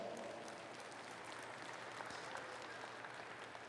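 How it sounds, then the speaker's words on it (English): Audience applause for cattle exhibitors at a purebred Gelbvieh show at the National Western Stock Show, a steady, distant wash of many hands clapping that holds evenly throughout with no talk over it. "let's go ahead and give all these exhibitors an outstanding round of applause"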